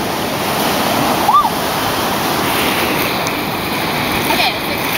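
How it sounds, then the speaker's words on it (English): Water splashes and rushes continuously outdoors, a loud, broad wash of sound with a brief sharper splash partway through and faint voices in the background. "Splash some water."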